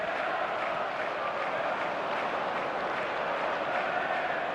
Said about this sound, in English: the crowd's impatience is an indicator that they haven't quite given up on a goal just yet